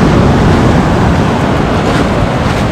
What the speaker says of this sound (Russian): Вот такое вот море сегодня